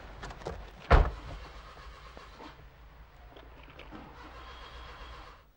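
A car engine cranks briefly and fails to catch during a tense scene, a sharp loud burst followed by a steady low rumble and faint background noise.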